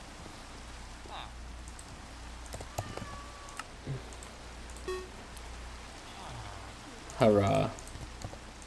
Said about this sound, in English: Let's oxidize faster in the rain.